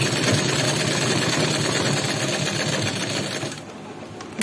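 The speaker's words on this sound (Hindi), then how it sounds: "तो देखिए मैं अपने साइड साइड में जो है सिलाई लगा लूंगी ताकि जो अस्तर है वो अटैच हो जाए।" Electric sewing machine stitching the side seams to attach the lining of a kurti, a steady continuous mechanical whir running close and loud, then easing off near the end.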